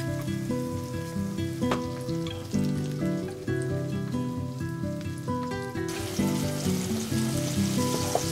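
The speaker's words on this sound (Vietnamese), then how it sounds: "Mình chiên ở mức lửa vừa nha các bạn." Steady crackling sizzle of battered eggplant slices frying in hot oil over medium heat, continuous and fairly loud, with a brief brighter burst of spattering near the end.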